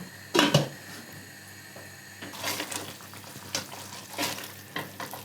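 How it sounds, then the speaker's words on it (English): Oil sizzles and crackles steadily as tomato puree cooks with spices, with occasional stirring scrapes and clinks of a pan, no voices. "Tomatoes have been sizzling for roughly about 2 minutes"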